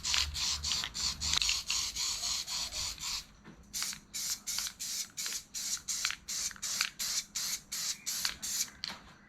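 Spray-painting a 3D-printed gauge pod for a boost gauge, with a series of short hissing aerosol bursts in an even rhythm, close and fairly loud, with no talking.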